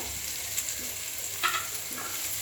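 Onions frying in a pan for a coriander curry, a soft steady sizzle with a few light stirring scrapes, fairly quiet and close.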